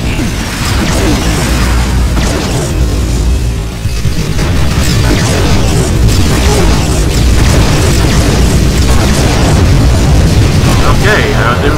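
Fireworks-like explosions in the Terminator: Dawn of Fate video game, a dense continuous barrage of booms and crackling blasts that stays loud throughout.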